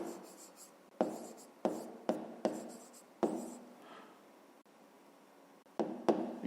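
Pen strokes scratch across paper while a grade 5 math exercise is written out, coming as short close bursts with brief pauses between them, quiet and alone.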